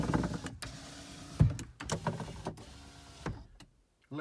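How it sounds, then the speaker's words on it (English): The electric windows on a 1997 Ford Transit Autosleeper Duetto motorhome run in several short, quiet bursts of motor whine, separated by brief pauses. "Electric windows."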